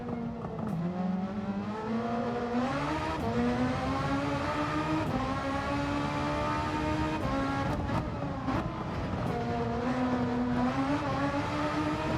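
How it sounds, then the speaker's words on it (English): A race car engine in Gran Turismo 7 drones steadily at high revs, pitch rising and dipping with gear changes, sounding doubled and echoey, loud and continuous without speech. "Is it me or is there a weird like echo on the sound effects at the moment with this car?"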